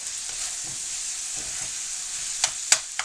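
Ground meat for lasagna fries in a pan, giving a steady, even sizzle throughout with a few brief louder crackles toward the end and no talking.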